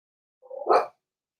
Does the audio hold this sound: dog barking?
yes